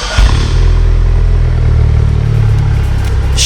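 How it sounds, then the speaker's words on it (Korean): A Chevrolet Malibu fitted with a variable full exhaust and black square dual tips starts up close by with a short initial burst, then settles into a low, steady, fairly quiet idle rumble. "시동 거는 소리는 크지 않아요."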